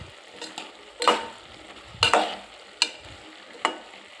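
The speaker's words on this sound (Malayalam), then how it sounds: "അരപ്പിട്ട് നമുക്ക് നന്നായിട്ട് ഇളക്കി കൊടുക്കാം." Ground coconut paste being stirred into avial vegetables, with four or five distinct scraping strokes spaced about a second apart over a quiet, faint background.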